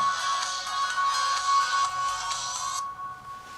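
An Alcatel One Touch M'Pop phone's loudspeaker plays a bright, loud electronic ringtone with a steady repeating melodic pattern for about three seconds, then cuts off abruptly.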